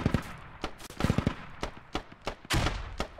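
Machine gun fire from an MT-LB armored vehicle in Squad, heard as sharp bursts of several rapid shots at irregular intervals, loud and fairly close, with short gaps between volleys.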